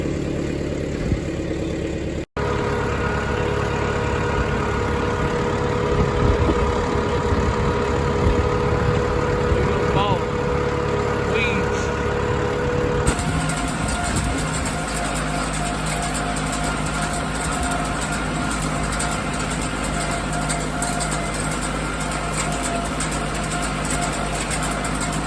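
A tractor engine idles and runs steadily at close range while a hay rake is pulled out, its low droning hum continuous with a shift in tone partway through; no talking.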